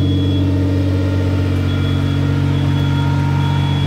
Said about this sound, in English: It's a pretty awesome burnout.